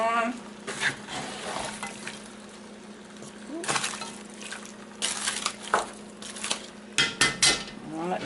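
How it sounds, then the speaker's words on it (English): A spoon stirring Cajun smothered potatoes, sausage and shrimp in a pot, giving scattered scraping and clinking hits over a soft background cook, with a few sharper metallic knocks near the end. "Give it a mix. And then we'll put the lid back on."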